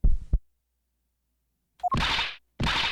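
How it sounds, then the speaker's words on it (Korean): A heartbeat sound effect from the Ace Attorney Investigations video game, a short cluster of low thumps at the start, then silence before two louder, broad bursts. "심장 소리 들린다."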